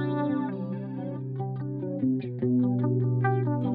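Electric guitar through a PRS Wind Through The Trees flanger pedal, a few sustained notes and chords shimmering with a chorus-like sweep, played alone and fairly quiet.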